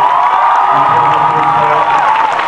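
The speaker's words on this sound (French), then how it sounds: "Vous pouvez l'applaudir très très fort" Large theatre audience gives loud, sustained cheering and applause after a Chris Colfer Q&A, a dense crowd roar with whoops running throughout without a break.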